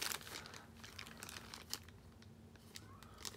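Crinkly plastic rustling and crackling close by as a bag of dice is opened, with sharp little crunches scattered through a few seconds of handling, faint and continuous.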